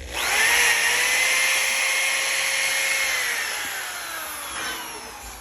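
A power sander switched on and running over a piece of wood clamped down in a workshop, giving a loud, steady whine that spins up at once and then gradually eases lower as it keeps going.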